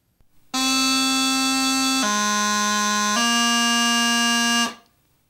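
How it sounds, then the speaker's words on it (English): A loud, reedy bagpipe chanter tone holds B, drops briefly to a low G grace note, then settles on low A before cutting off. "The second skill is the transition from B to low A with a low G grace note."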